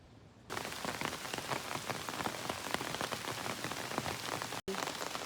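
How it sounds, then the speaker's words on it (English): Rain falls on a forest trail along the Appalachian Trail, a dense, steady hiss and patter that starts abruptly, stays close and even, and cuts out for a moment near the end. "It's raining."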